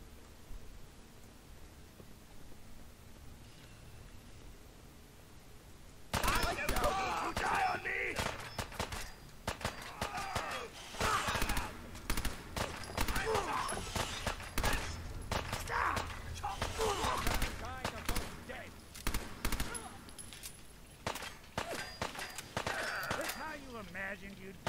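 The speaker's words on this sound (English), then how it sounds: "Shoot him, Nick." Gunfire in the video game Fallout 4, a sudden burst of rapid shots and impacts that keeps going in dense clusters after a quiet start, loud and chaotic, with voices speaking in between.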